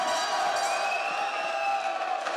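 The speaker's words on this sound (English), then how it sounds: "Looks like Tsusui got a lot of fans out here tonight." A crowd at a URCC fight event cheers and whoops loudly and continuously for a fighter, a dense roar of voices filling the arena with no single speaker standing out.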